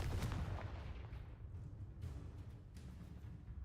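A continuous blasting spell explosion from the Confringo curse in the Hogwarts Legacy video game, a loud rumbling boom with crackling debris that stays dense and sustained throughout, with no speech.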